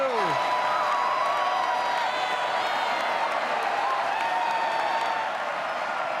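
Sustained crowd applause and cheering in a football stadium after New Zealand score their second goal against Tahiti in a World Cup qualifier, a steady dense roar of clapping throughout.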